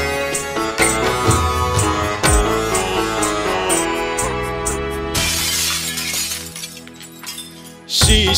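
Glass shatters as a sound effect within a Maithili sad song, with a bright crashing burst arriving over the music midway and another sharp hit near the end.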